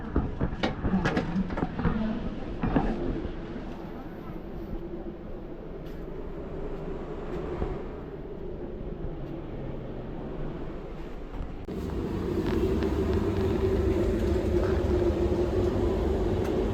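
A moving train heard from inside a cabin on the run from Rajasthan to Kolkata, with a steady low rumble and clatter throughout that swells louder in the later part, and faint voices underneath.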